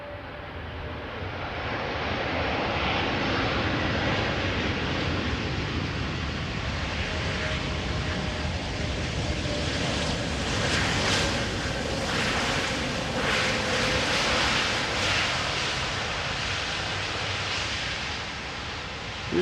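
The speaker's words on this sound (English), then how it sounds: "This is Turkish A330-300 arriving from Istanbul." A Turkish Airlines Airbus A330-300 arriving from Istanbul at Amsterdam Schiphol rolls out after touchdown, a broad sustained jet roar with only light thrust reverser use, steady and moderately distant throughout.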